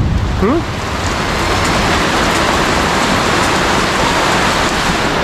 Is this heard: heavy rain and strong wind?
yes